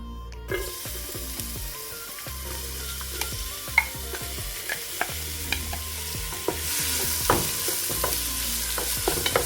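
Three medium chopped onions sauté in about three tablespoons of oil in a pan for a creamy cashew chicken curry, with a steady sizzle and frequent scraping, clattering stirs that grow busier toward the end.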